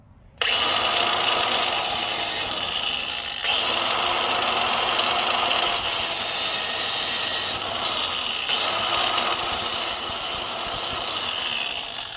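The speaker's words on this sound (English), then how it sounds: "I like to use my grinder" Angle grinder cutting through cable during the replacement of a DC-DC charger in a Leisure Travel Vans RV. A loud, close, continuous harsh grinding whine runs without stopping, with slight shifts in pitch as the cut goes on.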